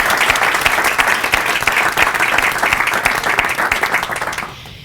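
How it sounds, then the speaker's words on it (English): A library audience at a school signing ceremony for future educators breaks into dense, sustained applause, many hands clapping close and loud before it quickly fades out at the end. "I would just like to give you all a round of applause"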